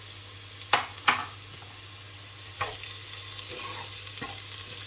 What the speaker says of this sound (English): Okay, and then we're just going to add the garlic.